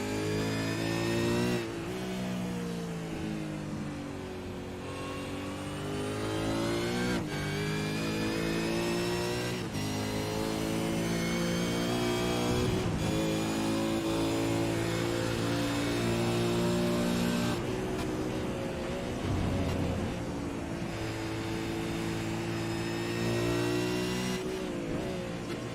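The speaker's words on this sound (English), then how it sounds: "I'm trying to let everybody at home hear these awesome sounds, and you can really hear when they lift and get into the brakes." V8 race car engines in the iRacing V8 America's Series sim racing game at Phillip Island, loud and continuous, with repeated revving climbs and sharp drops as the cars lift off and brake, no talk.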